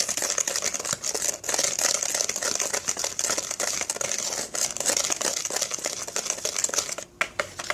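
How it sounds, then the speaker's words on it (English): Bath bomb ingredients for a mandarin and mango mix are ground outdoors, giving a continuous gritty scraping and crunching that runs steadily for several seconds, fairly close and alone. "Let's start grinding this."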